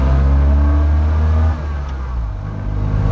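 A Fiat 126 Giannini GPA small car revs its engine on the road, a loud, low, buzzing drone that holds steady, then drops in pitch and level partway through before building again.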